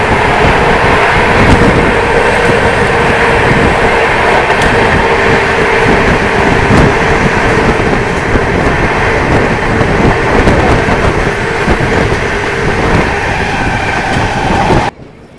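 Mumbai Rajdhani Express, 12952, running on rails, heard from inside as a loud, steady rumble and rattle with faint wheel clicks throughout, then cutting off abruptly at the end.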